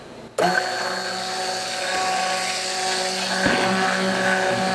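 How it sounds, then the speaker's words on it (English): A stick blender whirs in cold process soap batter made with jojoba oil, switching on abruptly into a loud, steady motor drone with a couple of brief dips in pitch as it churns, close and unaccompanied by talk. "I am burping my stick blender."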